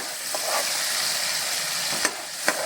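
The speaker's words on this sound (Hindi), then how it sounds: "ये करीब आध पाव के करीब तेल है और उसमें हमने जो पिसी हुई प्याज है 3 मीडियम साइज की, इसको डाल देंगे" Ground onion from three medium onions frying in hot oil, giving a steady close sizzle with a couple of brief stirring scrapes.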